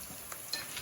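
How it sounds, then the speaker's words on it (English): Rice cooking in a pot on a stove, a soft, continuous sizzle and bubble with faint stirring scrapes, low and close, for under a second. "It's pretty much sizzling right now."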